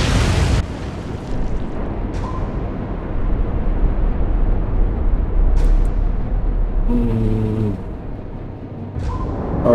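Naval gunfire and shell explosions in the Atlantic Fleet video game, a sharp loud blast at the start followed by a long rumbling roar, another distant boom, and a brief tonal whistle near the end.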